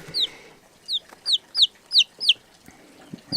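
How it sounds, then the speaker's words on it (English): A run of six or seven sharp, high clucks comes close and loud from young free-range chickens on a homestead, spaced in a quick uneven rhythm over a quiet background. "Speaking of chickens, there they are."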